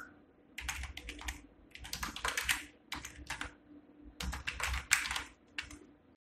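Computer keyboard typing comes in quick bursts of crisp, close key clicks separated by short pauses, entering a formula in a spreadsheet, with no voice over it.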